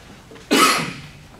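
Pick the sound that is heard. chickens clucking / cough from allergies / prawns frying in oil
cough from allergies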